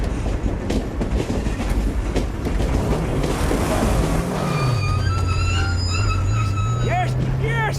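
In the video game Mad Max, a subway train rumbles and clatters steadily nearby, then settles into a lower droning hum with faint squeals, while a voice talks over it.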